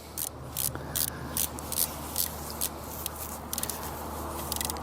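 A torque wrench on scope ring screws gives a series of short, close scratchy ratcheting bursts at an uneven pace, with no talk.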